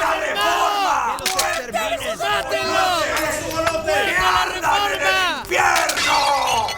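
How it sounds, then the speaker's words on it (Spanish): An angry crowd yells and roars through the streets of Paris, many overlapping voices shouting in a continuous, loud, close din with sharp rising cries. "en las calles de París se escuchaban gritos. ¡A la hoguera! ¡Muerte a los hugonotes!"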